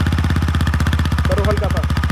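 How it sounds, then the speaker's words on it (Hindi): A TVS Apache RTR 160 4V motorcycle with a dual-tip exhaust idles close by, a loud, steady, even thumping pulse with no throttle blips, while someone talks briefly over it. "एक बार मैं साउंड सुना देता हूँ, हाँ, थ्रॉटल मत करना, सिर्फ आइडल छोड़ दो"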